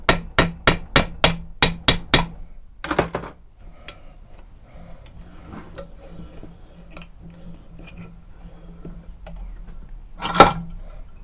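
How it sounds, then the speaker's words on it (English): Seven sharp metal-on-metal hammer strikes in a quick, even run, one more blow a second later, then a single loud whack near the end, as a screwdriver is driven into a dagger handle to cut a slit. "I'll use a screwdriver to whack down there to make the little slit."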